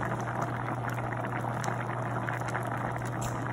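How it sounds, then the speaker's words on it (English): Vegetable soup simmers in a pot, giving a steady, close, continuous bubbling and popping with a low hum underneath and no talk. "you see that bubbling goodness?"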